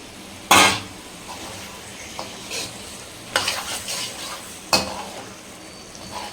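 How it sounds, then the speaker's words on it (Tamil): Eggs dropped into frying masala in a pan for egg thokku, with a few sharp clanks and stirring scrapes over a low, steady sizzle and no talking. "இப்போ அதில் எக்கு வந்து சேர்த்துக்கிறேன்."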